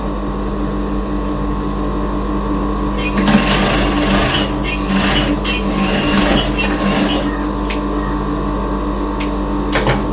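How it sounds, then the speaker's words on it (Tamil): Sewing machine stitching small folds of cloth, running loud and close throughout with a steady mechanical hum and rapid needle chatter that grows busier in the middle. "இப்ப நாங்கள் இதை வந்து இப்படி குட்டியா மடிச்சு தைச்சு போட்டு"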